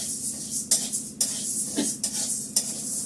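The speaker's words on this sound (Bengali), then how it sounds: "আমি ডালটাকে না হালকা করে ভেজে নেবো, হ্যাঁ, মটর ডালটা" Matar dal being lightly dry-fried in a pan on a home stove, with a steady low sizzle under repeated sharp scrapes and clinks of a stirring spoon against the pan at a slow, uneven rhythm.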